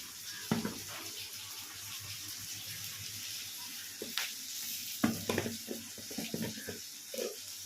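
Brinjal sautéing in a pan for brinjal rice, giving a steady moist sizzle with scattered louder stirring scrapes and clatters, fairly close, with no voices.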